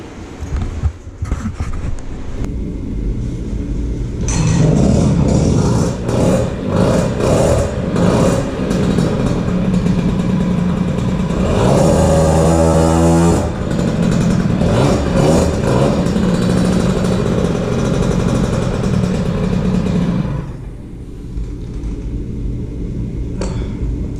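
An air-cooled 70cc Peugeot 103 moped engine runs nearby, idling then revving up into a loud, buzzing two-stroke whine that holds with fluctuating pitch before dropping back to a lower idle.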